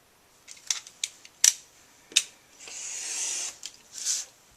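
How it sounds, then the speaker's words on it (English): A knife slicing excess paper along a metal ruler, a series of short sharp scratchy strokes and clicks followed by a longer drawn-out scraping cut, close and quiet with no talk. "take my metal ruler and, if it will, please, thank you, take a knife and cut off any excess"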